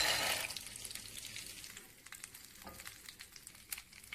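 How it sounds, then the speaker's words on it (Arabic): Chicken pieces frying in butter in a pan, a steady close sizzle that is loudest at the start and then settles into a softer crackle with scattered pops. "بنحط معلقه كبيره من الزبده وبنقلي الدفعه الثانيه"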